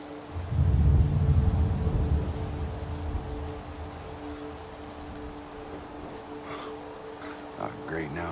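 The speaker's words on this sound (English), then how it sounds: "Oh, great, now it's raining" Rumbling thunder rolls in from a Madden NFL game storm, swelling loudly then fading into steady soft rain, with a voice briefly speaking near the end.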